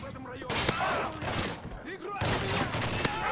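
Gunfire in the video game Survival SP, a rapid burst of sharp shots with loud transient cracks amid busy in-game noise, with a voice speaking over it.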